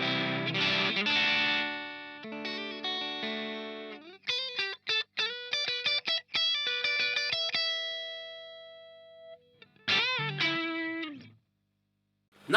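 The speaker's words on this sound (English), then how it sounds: "it simulates the sound of a tube amplifier at the edge of the breakup." Electric guitar played through an RCustomS Dragon Eye overdrive pedal, giving a mildly driven tone: strummed chords, then single picked notes and short phrases with sustained tails, a brief pause and a final ringing chord.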